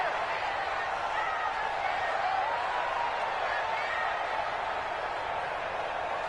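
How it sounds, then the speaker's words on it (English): A stadium crowd in a football video game cheers in a steady, broad roar that swells slightly in the middle before a big third down, holding constant throughout without pauses. "the crowd getting into it as we come up on a big third down"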